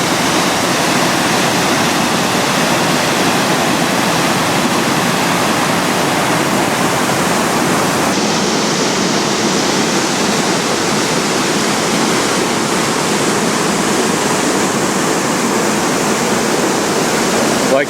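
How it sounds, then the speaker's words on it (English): Savica Falls near Bled, Slovenia, roars as a steady, loud, full-bodied rush of falling water, a continuous broadband wash heard up close with no voices over it. "calm before it rushes over a falls, chaos as it hits the bottom of the falls"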